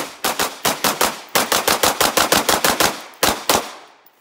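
A Sig Sauer P320 9mm pistol fired at an outdoor range, a fast string of about eighteen sharp, loud, close shots in quick rhythm with one short pause, no talking.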